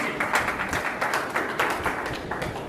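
An audience at a stage event gives a guest steady, dense applause of many hands clapping together at a consistent level throughout.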